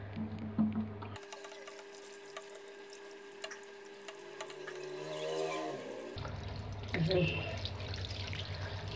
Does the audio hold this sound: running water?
yes